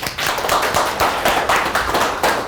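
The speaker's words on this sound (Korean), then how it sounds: "박수!" A lecture audience in a Seoul speed-reading class claps steadily for a couple of seconds, a dense, even burst of many hands close by, with no talk over it.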